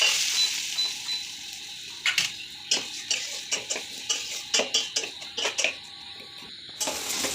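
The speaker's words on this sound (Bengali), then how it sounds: "এবার ভালো করে নেড়ে নেবো আবার।" Onions fry in a pan for an egg curry while a spoon stirs them. Regular scraping and clinking strokes play over a faint steady sizzle, close and clear, with no speech.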